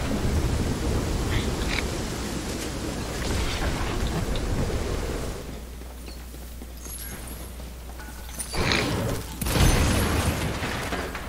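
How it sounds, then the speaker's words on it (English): In the Fortnite video game, a storm roars with dense rain and rolling thunder, continuous and loud at first, easing midway, then swelling again with sharp bursts near the end. "You love this storm, too."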